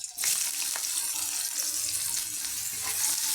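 Chopped onion dropped into hot oil in a kadai sets off a loud, close sizzle that bursts in just after the start and hisses steadily throughout. No voices are heard.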